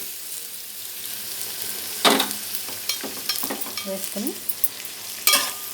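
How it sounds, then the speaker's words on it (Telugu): Capsicum, green chillies, shredded cabbage and grated carrot fry in a pan for egg fried rice, a steady sizzle broken by several sharp spatula scrapes and stirs, louder bursts near the middle and end. "వీటినన్నిటిని బాగా ఫ్రై చేసుకోవాలి."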